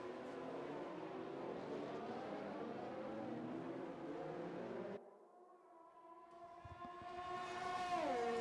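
Race cars in a racing video game sweep through the fast 200R corner at a Japan Grand Prix circuit, engines droning in overlapping tones, then one car's rising whine cuts in near and alone after a sudden drop.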